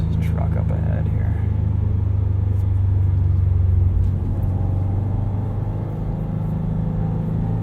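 A 2018 Subaru WRX STI's engine drones and rumbles steadily from inside the cabin while driving on a road, a low continuous tone that dips briefly near the middle, with road noise around it.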